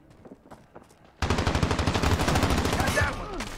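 Loud, rapid bursts of shotgun fire in Modern Warfare erupt abruptly after a quieter opening with footsteps and continue as a dense volley until the clip ends.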